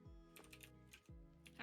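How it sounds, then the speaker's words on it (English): Quick keyboard typing clicks, close and faint, over a low background hum. "Sorry for my typing."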